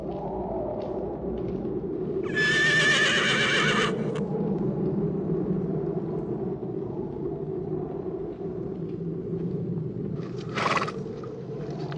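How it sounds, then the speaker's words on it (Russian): A horse neighs loudly in one long whinny, and a second shorter call follows later, over a constant low rumble and a steady background din. "Коня! Коня!"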